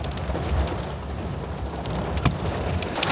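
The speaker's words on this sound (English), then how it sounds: "Oh, shoot, that's a hail." Hail coming down on a sudden storm day after sunshine, a dense, continuous clattering patter with scattered sharper hits, loud and close, with no talking.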